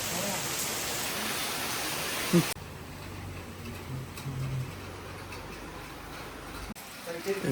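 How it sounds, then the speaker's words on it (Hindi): Rain falls at Boulevard Resort in Kakkadampoyil, Kerala, a steady broadband hiss that is heavier at first, then drops to a softer patter. "यहाँ बारिश क्यों पड़ रहा"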